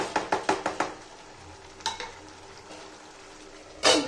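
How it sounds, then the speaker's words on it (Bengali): Fish frying in a pan while being gently turned, a quick run of close scraping stirs followed by a quieter sizzle, then a couple of isolated clinks and a final louder scrape. "এটা আলতো হাতে নাড়াচাড়া করে একটু মাছটা নরম হয়ে আসলে নামিয়ে নিতে হবে"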